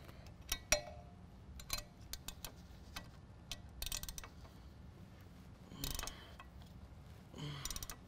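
A ratchet wrench snugs down factory nuts on a differential drop bracket during a lift kit install on a 2014–2017 Chevy/GMC 1500 4WD, giving scattered ratcheting clicks and metallic ticks in short bursts, quiet and near.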